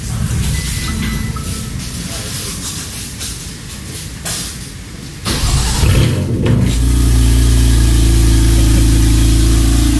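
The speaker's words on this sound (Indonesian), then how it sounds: "M3 cold start gimana nih suaranya nih." A BMW M3 engine in an E63 makes a cold start: quiet rustling and a short crank give way near six seconds to a loud, close, steady high idle that holds to the end.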